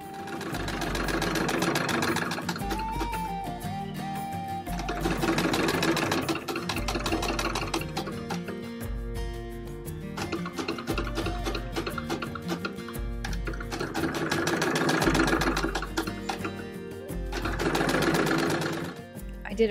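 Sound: sewing machine stitching fabric gores into 18th century jacket

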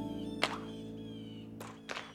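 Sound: hockey puck being shot

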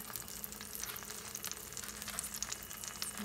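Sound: food cooking in a pan

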